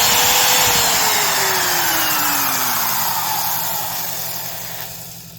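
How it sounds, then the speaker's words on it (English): A Porter-Cable 7301 trim router with a failing top bearing runs at a high whine, then spins down toward the end, close and steady. "you can kind of hear that little bit of a rattle sound. That indicates that most likely that the top bearing is starting to fail"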